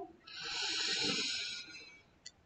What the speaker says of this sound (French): Prenez une respiration.